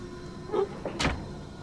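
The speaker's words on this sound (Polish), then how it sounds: "A, zamknąłem drzwi." A door swings shut in Amnesia: A Machine for Pigs, a single short creaking sweep ending in a soft close, heard alone against a quiet ambient hum.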